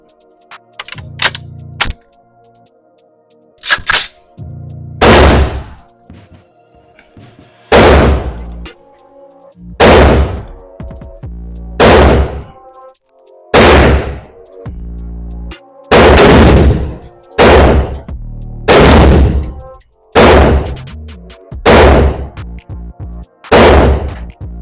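A rifle fitted with a Breek Arms Castle blast shield and muzzle brake fires a long series of loud, close shots at an uneven pace, each a sharp crack with a short echoing tail, around a dozen in all.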